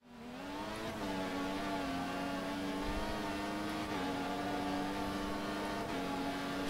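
Formula One race car engine in the F1 2014 video game, a continuous high droning whine held steady for several seconds with small pitch dips at gear changes, moderately loud with no talking.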